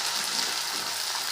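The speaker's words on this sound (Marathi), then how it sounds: "आता कुरडे तळून घेऊ आपण." Kurdaya fryums frying in hot oil, a dense, steady crackling sizzle, close and continuous, with no voices over it.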